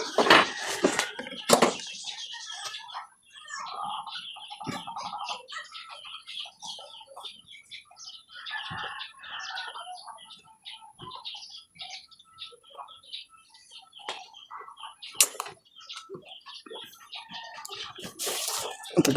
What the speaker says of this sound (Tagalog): May ibon pa.